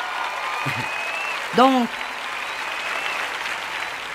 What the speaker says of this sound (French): Vous avez applaudi, c'est bien.